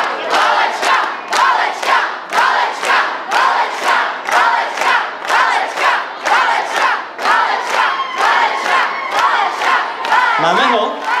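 A dense, loud crowd fills a hall at a student ball in Staňkov, with rhythmic surges of shouting and cheering that swell and fade in steady waves, then a brief voice rises above the din near the end.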